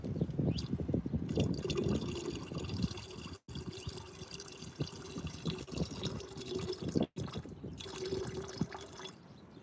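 Acid being poured for gold and silver refining, a close continuous trickle and splash of liquid with brief gurgles, broken by two short pauses.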